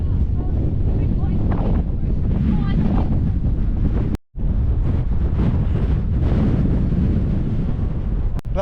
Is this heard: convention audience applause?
no